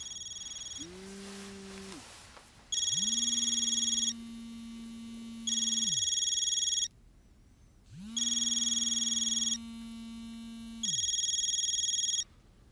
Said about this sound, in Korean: 전화 받으시죠.